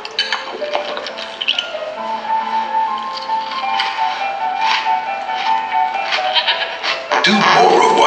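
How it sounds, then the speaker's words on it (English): A goat bleats repeatedly in a Lenovo Yoga Tablet advert played at a London launch event, the wavering calls mixed with music and ambient noise in a room. "The first one involves a goat"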